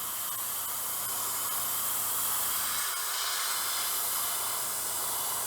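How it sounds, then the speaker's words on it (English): An airbrush fed by a compressor sprays paint onto a test model, giving a steady, close, broadband hiss that runs without a break from start to finish. "I'm going to reach over here and turn on my compressor, and I'm going to get my handy dandy test model, and I'm just going to spray some of this on."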